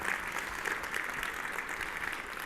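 Steady applause from a crowd fills the whole clip, a dense, even patter of many hands clapping, with no talking.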